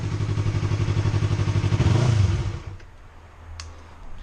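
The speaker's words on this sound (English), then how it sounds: "they'll have a real deep note to them when you actually apply the throttle" A Yamaha R3 motorcycle fitted with a K&N air filter revs up steadily with a pulsing, rising engine note, close and loud, then drops back to a quieter idle with a couple of faint clicks.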